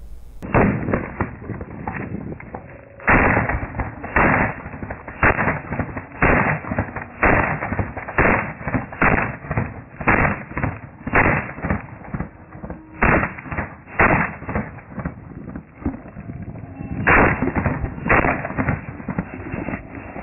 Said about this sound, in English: This video shows you more clearly Moore's execution attempt of Detective Cooper just before Detective Gibbs returned fire.